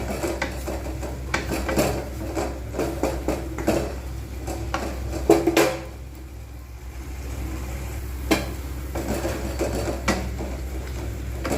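Chili and turmeric powder fry in oil in a pan, with a spatula scraping and clinking against the metal in uneven strokes over a faint steady sizzle.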